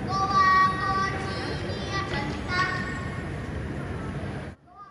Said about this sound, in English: This is the sound of an age-old Korean children's game, Mugunghwa Kochi Pieotseumnida, or Red Light, Green Light in English,